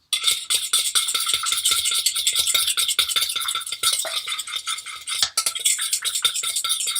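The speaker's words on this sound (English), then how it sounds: "Whisk that together with a fork." A fork whisks lime juice dressing in a bowl, making rapid rhythmic clinks and scrapes against the sides, close and fairly loud, with a brief pause near the end before the quick strokes resume.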